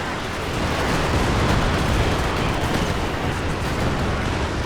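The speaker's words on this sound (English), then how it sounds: "Oh, he is going for the low angle barrage." Low-angle artillery barrage in Company of Heroes 2, a dense, loud roar of overlapping blasts rumbling steadily throughout with no clear gaps between impacts.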